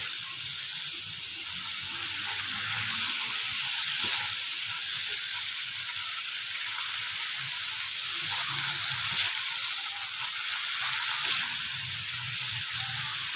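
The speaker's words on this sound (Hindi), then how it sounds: "ये देखिए, हमने इसके अंदर ऑयल ऐड कर दिया है और कीमे की भुनाई कर रहे हैं।" Minced keema meat fries in cooking oil on a tawa, giving a steady bright sizzle that stays even and close throughout, with faint stirring scrapes and no talking.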